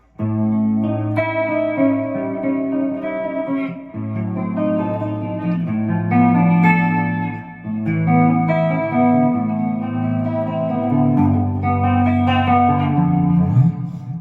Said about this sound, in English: I have the Laney, solid state. It's a Linebacker 50 reverb.